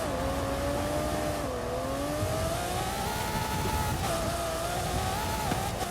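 Nissan GT-R in a racing video game, a loud continuous engine drone with smooth pitch shifts as it accelerates and eases off. A faint tire squeal may come through, and nobody talks.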